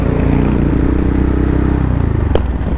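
A Harley motorcycle engine runs with a deep, throbbing low rumble and steady loud pulsing, close by, with a brief sharp clack near the end.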